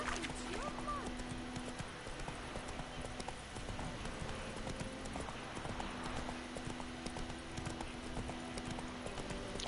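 Horse hooves clip-clop at a steady trotting rhythm in a fantasy monster-hunting video game, with a constant low hum and game ambience behind them and occasional faint voice sounds.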